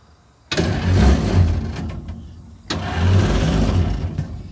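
An old Farmall or Ford crane truck engine cranks on the starter button in two loud bursts, catching briefly and rumbling close by before cutting out, with a brief pause between attempts.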